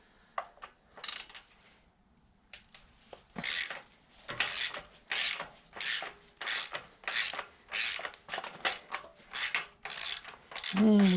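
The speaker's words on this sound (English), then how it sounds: "And we'll get the backing plate breather bolts out." A ratchet wrench works the backing plate bolts on a 2008 Harley-Davidson Sportster 883C, giving close, rhythmic bursts of rasping clicks that repeat steadily after a few scattered taps.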